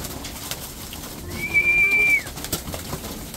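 Young racing pigeons in a loft give a soft call, one drawn-out whistly tone lasting under a second amid faint background murmur and rustling.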